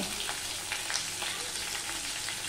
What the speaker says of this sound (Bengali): আগে দিয়ে একটুখানি আমি ভেজে নেব